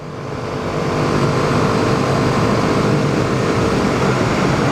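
A BMW G310R single-cylinder motorcycle engine is heard on a ride in the UK countryside, a steady loud drone that swells in the first second and then holds even, with no talk.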